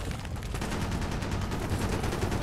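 Dense, sustained automatic gunfire in the Call of Duty Black Ops video game, loud rapid bursts filling the whole moment without pause, close and continuous.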